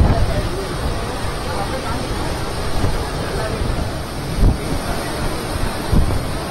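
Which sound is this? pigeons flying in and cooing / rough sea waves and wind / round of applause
rough sea waves and wind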